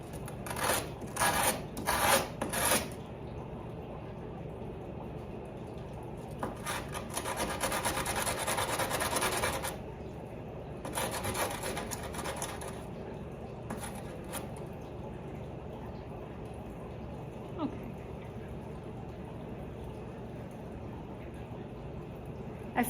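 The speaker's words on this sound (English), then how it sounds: "my little belt sander will make quick work of that" Grinding rasp of a small belt sander smoothing the rough edge of a ceramic guitar slide, in several short bursts and two longer passes separated by quiet pauses, close and moderately loud.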